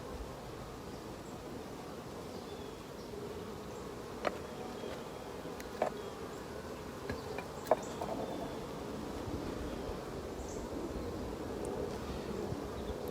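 Honeybees hum in a soft, continuous drone during a beehive inspection for varroa mites, a steady low buzz with a few faint clicks and knocks from handling the hive, and no talking.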